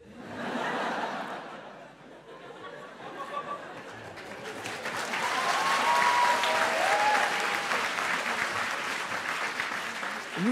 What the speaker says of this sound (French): Vous applaudissez trop.